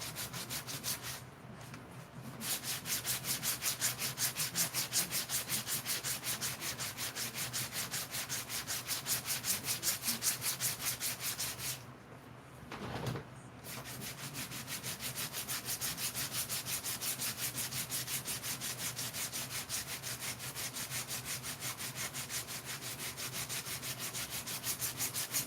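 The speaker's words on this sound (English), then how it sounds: "So I'm sanding over my trash can." Steady, continuous rasping of sandpaper rubbing back and forth on a 3D-printed part, close up, with one brief pause partway through.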